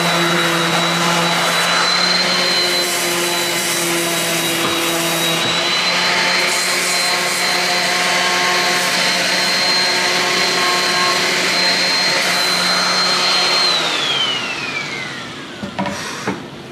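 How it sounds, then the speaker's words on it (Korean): A power sander sanding wood whirs steadily for a long stretch, a loud droning motor that winds down near the end. "이제 기계사포로 네. 전체적으로 다 돌려주시면 돼요."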